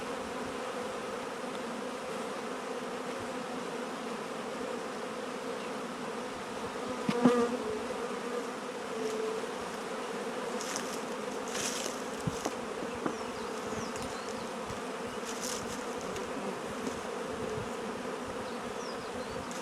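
A swarm of honey bees buzzes around hive boxes during a mini-swarm rescue. The buzzing is a loud, steady, dense drone throughout, with brief closer passes rising above it.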